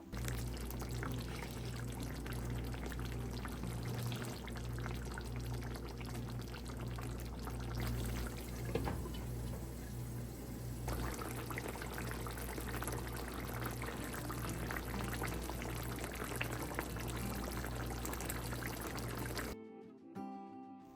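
Rinse water from a bowl pours steadily into a pan of fish curry, a continuous trickling splash over a kitchen hum that lasts for most of the stretch before stopping abruptly.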